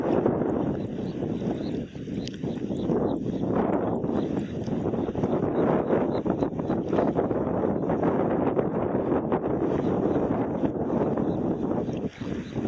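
Strong, steady wind buffets the microphone outdoors while fishing into the wind, a continuous dense roar with gusty swells and no clear pauses throughout.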